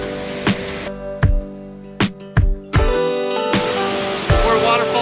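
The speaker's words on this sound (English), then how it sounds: "This is Wilson Falls on an unnamed creek apparently, and it falls directly into the Wilson River." Wilson Falls on an unnamed creek pours straight into the Wilson River, giving a steady broadband rushing roar. Several sharp thumps and knocks cut through the flow of water.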